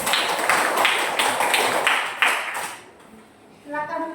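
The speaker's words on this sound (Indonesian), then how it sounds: "Tepuk tangan untuk kelompok kinestetik." A classroom of students claps for a student group, giving a burst of fairly rhythmic applause that fades out after a few seconds.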